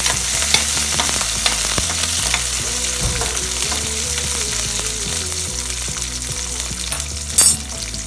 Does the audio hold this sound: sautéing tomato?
yes